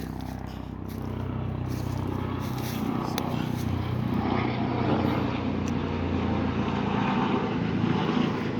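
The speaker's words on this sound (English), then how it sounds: "waiting for the helicopter to go across" A helicopter's engine and rotor drone passes overhead at the TVA Muscle Shoals Reservation, a constant rumbling roar that stays loud and steady across the whole stretch.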